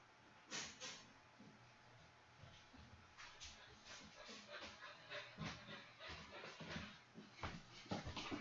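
A big, puppy-like dog pants in quick, uneven bursts close by, with occasional soft whimpers and shuffling movement in a quiet room.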